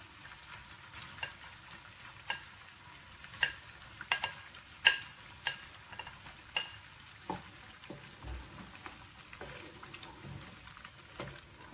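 Paneer cubes are stirred into a simmering curry gravy in a home kitchen, producing soft, quiet, irregular scraping and stirring clicks over a faint bubbling sizzle.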